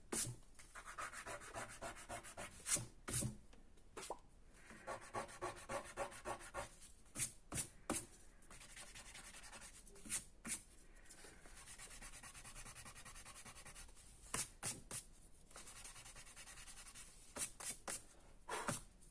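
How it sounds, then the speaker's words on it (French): An eraser rubs back and forth on thin pink paper in quiet, close bursts of scratchy strokes, pausing between sets of rubbing. "Le papier rose étant fin, je préfère ne pas oublier de gommer"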